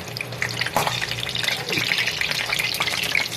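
Eggplant frying in hot oil in a home kitchen, a steady close sizzle and crackle running throughout, with a few faint clinks and no speech.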